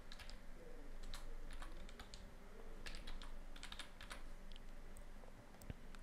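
Keys clatter on a computer keyboard as a password is typed, quick irregular bursts of light taps close to the microphone over a quiet room hum, with no speech.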